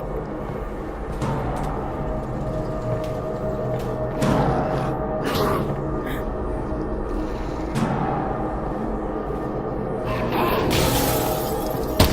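Glass panels shatter in the Half-Life: Alyx VR game, with several sharp crashing breaks spread across a steady backdrop of ambient game sound.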